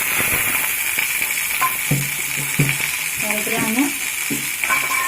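Tomatoes frying with onions in a pan for a Bhadel saag dish, a steady sizzle with intermittent stirring scrapes, with a person talking over it.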